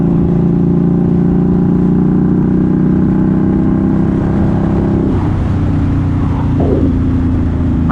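A 2020 Indian Scout Bobber motorcycle cruises along with a steady, loud engine drone and wind rush, the tone shifting briefly partway through as the rider changes speed; no talking.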